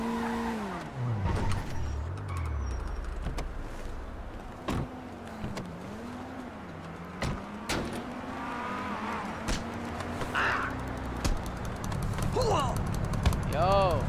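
Car engine revving and tires skidding in the video game GTA roleplay, a rising and falling motor drone with sharp impact clicks and squeals, loud and continuous, with talking over it.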